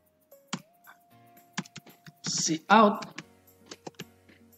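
Computer keyboard keys clatter in short, uneven bursts as code is typed, with someone speaking between and over the clicks.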